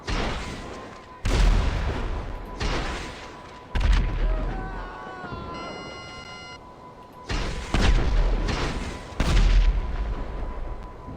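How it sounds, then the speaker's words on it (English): Missiles in GTA 5 Online land as a series of loud, close booming explosions. Each blast rumbles and fades before the next, with game sounds and a brief electronic tone between them. "Worst missiles ever."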